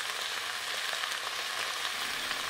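Tomato paste frying in a pot gives a steady, close hiss of sizzling oil with small crackles and no voices.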